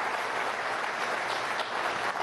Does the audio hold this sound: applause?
yes